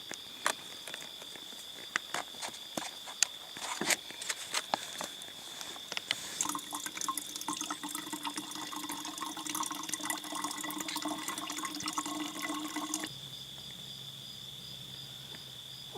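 Water drips and trickles from a squeeze-bag water filter into a container while hiking by a lake, a faint patter of irregular drips over a quiet outdoor background with a steady insect-like tone.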